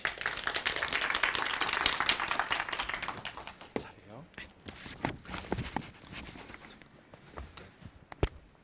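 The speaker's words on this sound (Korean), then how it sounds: "힘찬 박수로 맞이해 주세요" An audience at a student AI project presentation event claps to welcome a presenting team, with a few seconds of scattered applause that fades into sparse claps, footsteps and room noise.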